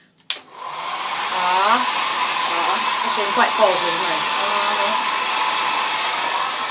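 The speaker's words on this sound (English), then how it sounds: "So I have read that a hairdryer can actually defrost." A hair dryer runs on high to thaw frozen food, a steady loud broadband blow that persists throughout, with someone talking over it near the microphone.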